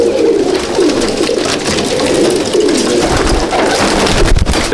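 Soft, continuous cooing of many racing pigeons fills a loft in Kolkata, close and steady with no voices over it.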